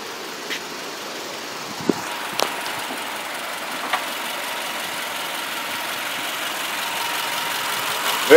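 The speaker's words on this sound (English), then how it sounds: "Engine sounds like your typical 4-cylinder boxer Subaru engine" A 2010 Subaru Forester's horizontally opposed four-cylinder boxer engine idles under an open hood as a faint, steady hum, with a few brief clicks over the quiet drone.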